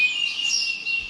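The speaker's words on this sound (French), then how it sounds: "C'est juste des oiseaux. Chant d'oiseau." Birds chirp and trill continuously, a loud, bright stream of overlapping high tweets close by with no talking.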